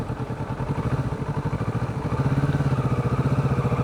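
A Kawasaki motorcycle idles at a red light with a steady, close, low, pulsing engine rumble that gets slightly louder and firmer partway through.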